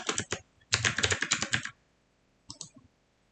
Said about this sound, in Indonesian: pengguna bisa mengetik jawabannya seperti ini